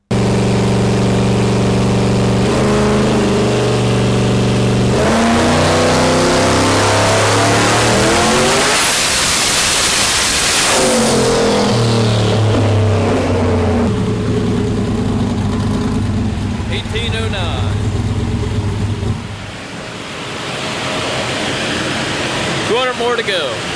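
A 2018+ Ford Mustang making about 2,000 horsepower on 35 psi of boost roars through a dyno pull, engine rising in pitch to a loud peak at high revs, then dropping back and idling down.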